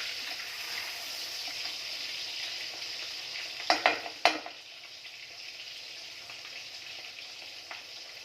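Fish frying in a pan in Odisha, a steady low sizzle with a brief louder crackle and clatter midway, then a quieter simmer, close and with no talk.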